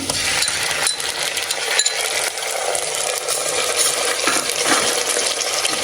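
Ginger garlic paste frying for mushroom pulao, a loud dense sizzle with spoon scrapes and clinks against the pan, continuous and close, no talking.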